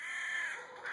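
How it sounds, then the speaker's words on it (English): Crows caw in a continuous, fairly loud chorus for just under a second, several birds calling over one another with no talk. "The birds are taking over."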